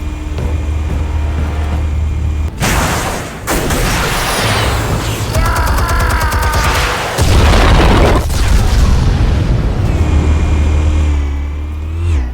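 Explosion in the Batman Telltale Series video game: a loud, deep boom with rumbling debris amid a dense, continuous game soundtrack, with a second heavy burst following a few seconds later.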